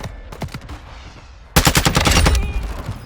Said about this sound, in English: someone's shooting from the right